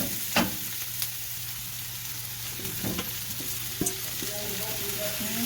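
Garlic and ginger fry in a pan at the start of a vegetable stir fry, making a continuous close sizzle with a few clinks and scrapes of stirring and no speech.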